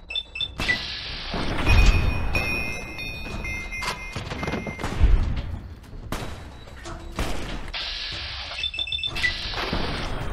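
Enemy gunfire in Fallout: New Vegas, with dense bursts of shots, heavy impacts and crashing blasts that come close and loud in waves, mixed with ringing game effects and an occasional voice.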